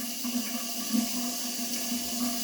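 Water runs steadily from a tap while a water heater is being tested, a constant near hiss over a faint low hum.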